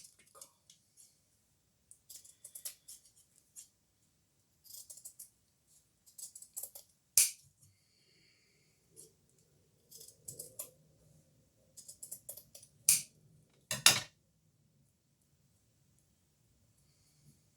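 Scissors cut paper for a mixed-media photo craft, giving sparse short snips and crisp rustling in scattered bursts, close and quiet, with a few sharper clicks toward the end.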